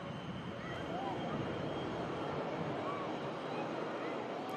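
An Aer Lingus airliner arriving from Dublin at Manchester Airport, its engines giving a continuous broad roar that holds steady at moderate distance.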